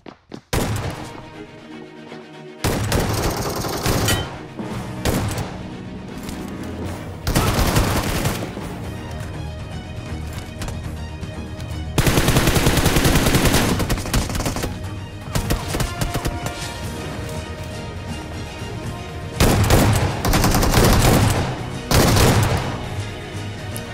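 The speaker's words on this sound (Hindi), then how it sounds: "शॉटगन के चांटे नहीं देखोगे तो मजा नहीं आएगा ना।" Shotgun fire in the mobile battle royale game BGMI, with loud repeated blasts and bursts of gunfire packed together and barely a pause between them, close up, with no talk.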